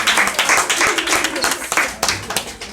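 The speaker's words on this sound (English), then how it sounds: "Let's give him a round of applause one more time." Group applause from a small audience, a brief round of clapping with some overlapping voices and chatter running through it.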